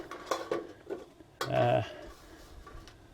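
A small stainless steel tray clatters on a raised barbecue with several light metallic clinks and scrapes, one ringing knock standing out, fairly quiet and close.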